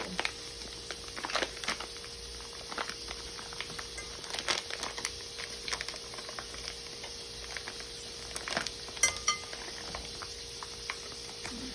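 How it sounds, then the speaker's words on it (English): Packaged cooked potatoes for cold German potato salad are squeezed loose and tipped into a bowl, with soft plastic crinkling, faint patters and a few light clicks at low volume and no voice. "Now you squeeze the package to loosen the product. And we're going to put that in the bowl."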